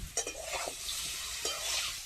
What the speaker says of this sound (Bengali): এবার এঁচড়গুলো ভেজে নেব।